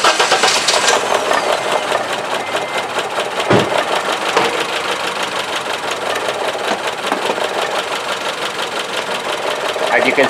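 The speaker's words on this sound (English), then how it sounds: "let me start the engine" A Honda Civic engine with a misfire, running at a steady idle with a rhythmic, slightly uneven mechanical chatter, close and continuous throughout.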